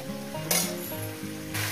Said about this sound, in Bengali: লাল লাল সুন্দর করে লাল লাল করে ভাজবো